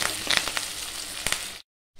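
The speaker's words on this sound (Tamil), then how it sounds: "சேர்த்து இப்போ வதக்கி விட்டுக்கலாம்." Small onions and curry leaves sautéing in a pan, a close steady sizzle with a few stirring scrapes, cutting to silence briefly before the sizzle returns.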